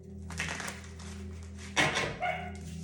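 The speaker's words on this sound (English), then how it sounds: "Dogs barking is confirmation." Dogs barking at a distance, a couple of faint barks over a low steady hum, with a brief louder burst near the end.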